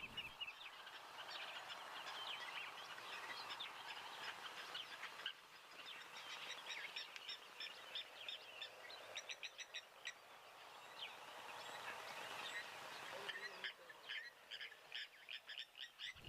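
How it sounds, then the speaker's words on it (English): Blacksmith lapwings call in a noisy outdoor chorus, sharp metallic tinking notes repeated in busy clusters at a moderate distance, continuing over a soft natural background. "the cacophony of blacksmith lapwings that are really going rather wild at the moment"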